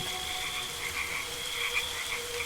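Frogs croak steadily at night alongside a constant high insect drone, an unbroken rural soundscape at moderate level with no voices.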